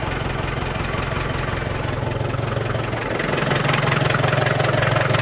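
An Iveco diesel engine with low compression idles with a steady, close, rumbling thrum, a regular low throb that grows slightly louder partway through, with no talk.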